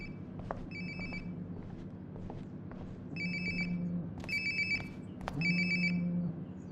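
A phone rings in the video game Life is Strange: Before the Storm, repeated bursts of an electronic ring tone sounding in a quiet room with a soft game background hum, growing slightly louder.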